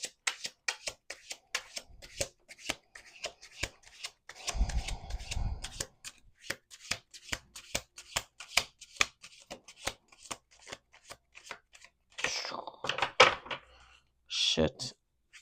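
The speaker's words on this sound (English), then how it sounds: "Let's do 2 more shuffles." Tarot cards being shuffled by hand in a long run of quick crisp riffles and flicks, with a few softer rubbing bursts, close up, with a person talking over parts of it.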